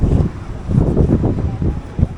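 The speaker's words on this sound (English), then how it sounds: "It's very, very windy." Strong wind buffets the microphone outdoors in Veracruz, Mexico, a steady low rumble with gusty surges and one sharper blast near the end, with no talk over it.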